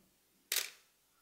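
A Pentax Spotmatic SP film camera's shutter fires once, a single sharp mechanical snap that rings out briefly in an otherwise quiet room.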